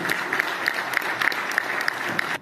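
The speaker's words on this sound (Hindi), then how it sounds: "एक बार जोरदार तालियां बजाइए" Audience applause at a Hindi patriotic poetry recital, steady dense clapping from a large crowd throughout, loud and continuous without talk.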